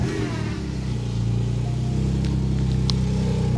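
A 2024 Porsche 718 Cayman GT4 RS engine starts and settles into a loud, dense idle rumble heard through an open car door, steady and close throughout.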